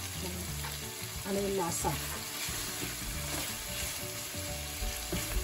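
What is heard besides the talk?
pork belly frying in pan for Bulanglang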